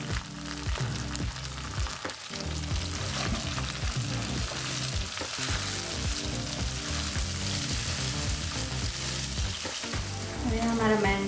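Tomato frying in a pan with golden-fried onions, a steady close sizzle and crackle lasting throughout, with occasional stirring scrapes over a constant hiss.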